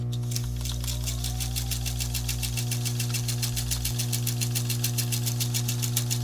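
A sewing machine stitches a star quilt block in a fast, even mechanical chatter over a steady motor hum, close and loud, pausing briefly for the needle to come down and pivot before running on.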